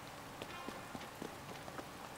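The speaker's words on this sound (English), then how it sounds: "Rather than just find a better way in or wait till it stops raining." Rain falls in the video game Zelda: Tears of the Kingdom, a soft, steady patter of drops on surfaces with scattered louder taps, quiet and continuous throughout.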